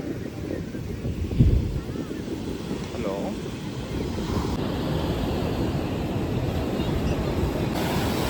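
Ocean waves roll onto a beach in Malappuram, Kerala, at sunset, producing a constant low roar of surf with wind buffeting the microphone and faint voices in the background.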